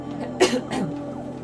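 A single person coughs once, loud and close, followed by a softer second cough a moment later, with quiet room tone around it.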